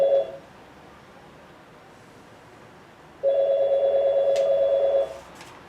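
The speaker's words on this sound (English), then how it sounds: "I think you should pick up the phone." An old-style telephone rings indoors with an electronic trill: a short ring at the start, a pause, then a longer ring of nearly two seconds, loud and close with no talk.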